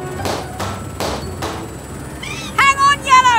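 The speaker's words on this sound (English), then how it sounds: "To lower Yellow down nice and slow, we'll pop one balloon at a time." Cartoon balloons tied to a yellow truck pop one at a time, four sharp bangs at steady intervals, followed by chirpy whistling cartoon effects and a voice.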